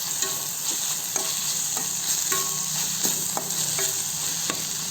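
Cooked lentils are stirred into ridge gourd frying in a pan, with a steady sizzle beneath regular scraping spoon strokes at a close, even loudness.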